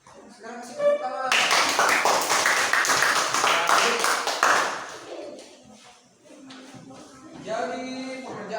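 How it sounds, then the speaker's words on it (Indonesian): A school class claps hands together in a burst of brisk, loud applause lasting a few seconds, with a teacher's voice speaking before and after. "Sekarang kasih tepuk tangan."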